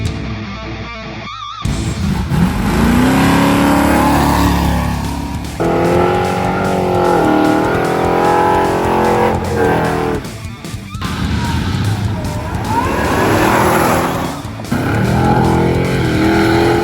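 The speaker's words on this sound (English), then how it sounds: "Did you guys really think we were going to leave the first checkpoint at the circuit without a burnout?" At a racing circuit checkpoint, a car does a burnout: a loud, sustained engine roar with screeching, squealing tires that rises and falls through several long revving surges and dips close by.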